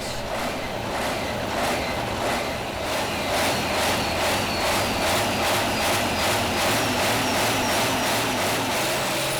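A pulling tractor's engine roars and revs at a Danish tractor pulling championship in Allingabro, with a loud, sustained mechanical drone pulsing in a rapid, regular rhythm as the machine eases forward.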